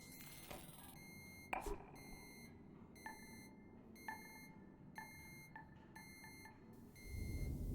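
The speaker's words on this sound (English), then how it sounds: "Why is it beeping?" Repeated electronic beeping from the video game Golf Club: Wasteland, a steady series of short bright tones at roughly even intervals over a faint background, with a louder rumble rising at the end.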